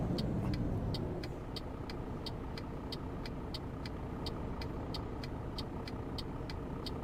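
A truck in Euro Truck Simulator 2 cruises along a freeway with a steady, even engine drone, while a regular ticking like a turn signal repeats throughout.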